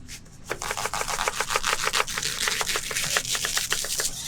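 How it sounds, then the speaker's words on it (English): Leek chopped finely with a knife on a cutting board, a fast, even run of crisp close tapping chops, loud and steady with no voices. "Chop the leek finely."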